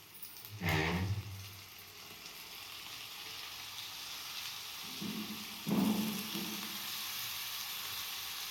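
Eggplant pieces go into a pan with ginger garlic paste, setting off a loud sizzle near the start, a steady frying hiss in between, and a second sizzling burst midway as more pieces drop in.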